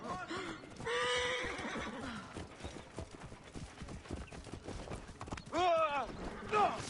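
A horse neighs loudly twice amid hoofbeats and bustling commotion in the video game Assassin's Creed: Origins, with a voice speaking in between.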